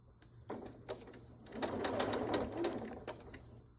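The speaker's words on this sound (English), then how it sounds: "you can see these are still lined up as we're sewing" A sewing machine runs steadily while curved quilt pieces are sewn. The close motor hum swells in the middle with a few light clicks, and low household background noise sits underneath.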